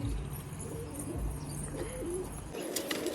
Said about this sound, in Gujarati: બાકી જોઈ લો આપણા કબૂતર બધા